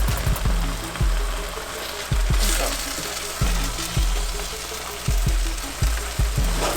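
An egg frying in a hot pan for breakfast, with thyme added, makes a strong, close sizzle over a low rhythmic thumping beat, a crackling hiss that carries steadily throughout.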